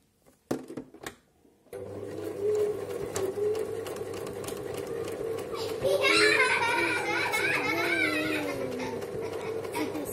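A sewing machine stitches a pincushion notebook, giving a steady, close mechanical whir that runs without a break and grows brighter and busier partway through, after a few soft handling knocks at the start.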